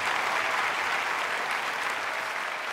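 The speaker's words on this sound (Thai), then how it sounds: "ขอเสียงปรบมือให้พี่ก้องหน่อยนะครับผม" An audience on The Voice Thailand breaks into steady applause during a knockout round, a dense, even wash of clapping that holds at full strength throughout.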